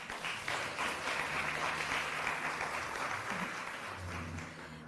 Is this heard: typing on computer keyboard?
no